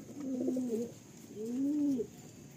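Two drawn-out, rolling coos come from a Madrasi pigeon in a loft, fairly close and clear over a quiet steady hiss.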